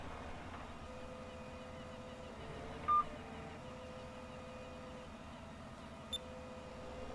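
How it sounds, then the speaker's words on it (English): A tractor's GPS in the Farming Simulator 17 video game gives two short, separate beeps while drilling a field, heard over a quiet, steady engine drone. "my GPS is beeping at me, telling me I'm about at the edge of the headland"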